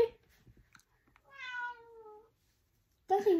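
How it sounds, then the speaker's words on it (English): A pet cat gives one clear, drawn-out meow at close range, alone in a quiet room; a short burst of human talk follows at the end. "She's a cat."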